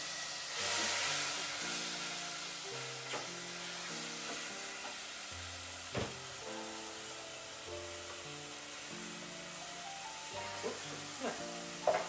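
Apple pie fruit sizzles and hisses steadily in a hot pan. Background music plays over it, with a few soft clinks.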